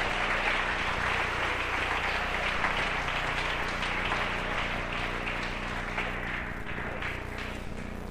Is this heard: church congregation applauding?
yes